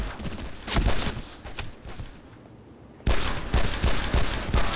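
Rapid gunfire in the video game Made Man, dense bursts of shots in a cemetery firefight, loud and close, pausing briefly before a fresh volley.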